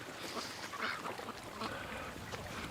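Duck quacking outdoors near a barn on a freezing day, a faint, steady stream of calls against constant background noise, no talk.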